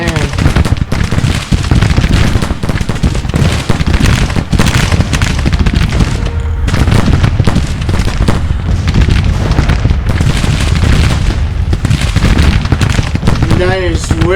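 Civil War battle gunfire in Grand Tactician: The Civil War, loud and continuous, with rolling musket volleys and booming artillery crowding together, one brief lull partway through before the barrage resumes.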